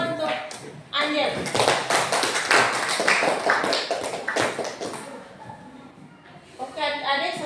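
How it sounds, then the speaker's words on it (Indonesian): A classroom of students applauds a classmate, with a burst of quick, dense clapping that fills several seconds and then tapers off as a few voices start up. "Tepuk tangan untuk Angel."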